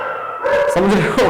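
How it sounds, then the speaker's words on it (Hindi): Several dogs bark and howl outside a room where a maths lecture is being recorded, loud and close, overlapping a man's speech in Hindi. "अब देखो कुत्ते इतने भौंक रहे"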